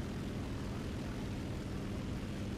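Ki-84 fighter plane in War Thunder, its piston engine and propeller droning as a steady, loud, continuous roar with no pauses or voices.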